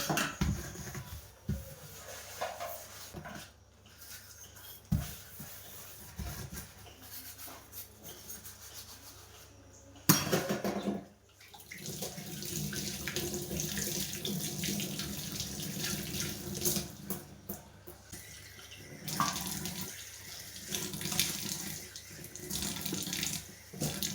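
Running tap water in a kitchen sink while dishes are scrubbed with dish liquid, a steady splashing flow with rubbing and clinks, briefly interrupted before resuming louder.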